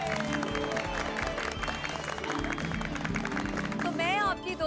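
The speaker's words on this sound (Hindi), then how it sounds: "उसके लिए एक बार जोरदार तालियां हो जाएं" Audience applause at the end of a live stage show, a steady wash of clapping that holds throughout, mixed with music and a voice over the top.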